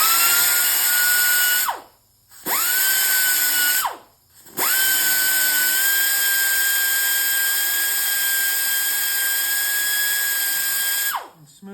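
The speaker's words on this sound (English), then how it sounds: "I switch to my third one, which is just a little porting grinder, and I sit and just kind of put a nice little chamfer on it" A small high-speed porting grinder chamfers a welded gear from a VW transaxle, whining loudly and steadily in three runs that spin up and wind down, with brief silent gaps between them.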